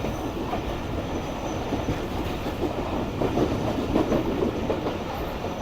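A train runs on the neighbouring track beside a moving Karachi-to-Sukkur express in Pakistan, giving a continuous close rumble with faint rhythmic wheel clatter that swells slightly toward the end.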